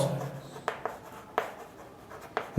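Pen or chalk strokes writing numbers during a Class 6 maths lesson, a few short scratchy taps spaced across a quiet background, fairly faint and close.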